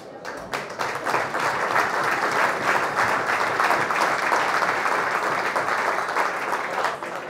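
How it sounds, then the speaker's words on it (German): Sustained applause from a stadium crowd for a young football player, a steady wash of many hands clapping that holds evenly for about seven seconds. "Den Applaus gibt es zu Recht"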